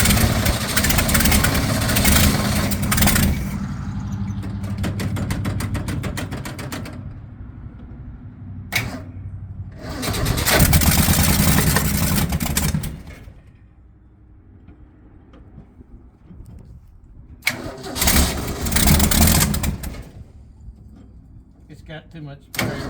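A 1965 Ford Mustang engine under restoration cranks and runs rough in loud, close bursts of revving separated by quieter pauses, with voices nearby.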